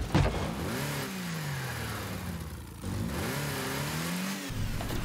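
Engine whir of a car driving in the video game Rocket League, a steady mid-pitched revving that rises and falls in smooth sweeps, briefly dipping before surging again, continuous and fairly loud with no talking.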